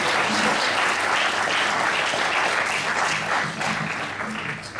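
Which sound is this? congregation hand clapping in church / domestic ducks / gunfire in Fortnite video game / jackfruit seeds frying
congregation hand clapping in church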